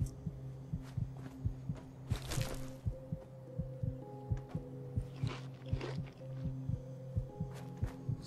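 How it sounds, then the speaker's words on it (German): Heartbeat in the game Fallout 4, a steady, close, low thumping pulse in paired beats running throughout, with brief rustles and clicks over it. "Sind wir verletzt oder was ist der Grund, warum wir jetzt so komisches Herzklopfen haben?"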